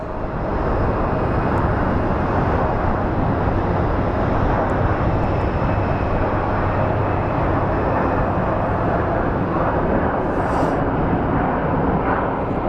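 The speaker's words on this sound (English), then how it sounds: "And here comes one of the big boys. So it's an MD-11." A McDonnell Douglas MD-11 widebody arriving at Phoenix Sky Harbor International Airport, its engines a loud, steady roar that fills the whole stretch without letup.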